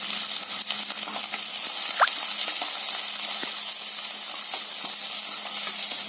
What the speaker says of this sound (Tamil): நல்லா இந்த எண்ணெயில வதக்கி விடுங்க.